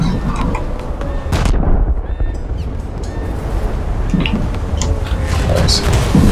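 Heavy naval guns of the Kongou battleship fire in a warship video game, sharp booming salvos rolling out over continuous rumble while players talk over the action.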